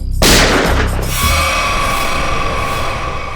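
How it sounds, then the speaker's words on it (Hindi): A single loud, sharp blast rings out close by, then a long echoing decay with a lingering ringing tone. "गोली चली क्या?"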